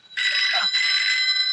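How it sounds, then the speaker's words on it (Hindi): A telephone rings with a steady electronic trill, its tones held bright and continuous, loud and close, with a short break partway through and faint background sound beneath. "फोन बज रहा है तेरी।"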